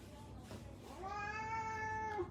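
A person imitates a cat's meow with one drawn-out, nasal mew that rises and then falls, close and clear over a quiet indoor background.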